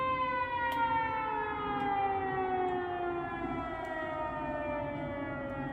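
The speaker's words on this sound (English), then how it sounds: "They got a siren just like we do." A long, wailing civil defense siren sounds steadily throughout, its pitch slowly falling, loud and continuous with no voices.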